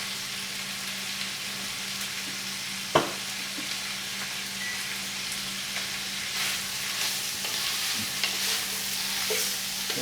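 Meat browning in a pot for Cajun red beans and rice, a steady close sizzle with occasional stirring scrapes and one sharp knock near the start, with no talking.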